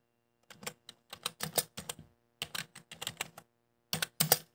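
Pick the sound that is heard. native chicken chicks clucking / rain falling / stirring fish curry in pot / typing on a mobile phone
typing on a mobile phone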